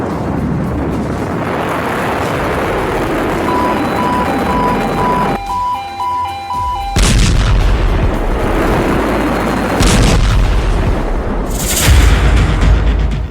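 A missile launch effect roars as a dense, heavy rumble, then gives way to a sudden quieter patch with a thin electronic beeping. Booming bursts follow, loud and close, with another blast near the end.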